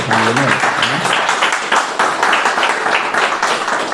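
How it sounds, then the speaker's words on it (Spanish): A church congregation breaks into loud, dense applause, a steady wash of many hands clapping close by, with a voice briefly heard over it at the start. "Vamos a dar un fuerte aplauso a la palabra de Dios"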